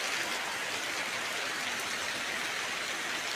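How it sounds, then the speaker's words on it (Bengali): Heavy rain pours steadily at night with a light storm, a dense, even hiss that holds constant from start to finish with no breaks or voices. "বৃষ্টি হচ্ছে প্রচুর পরিমাণে"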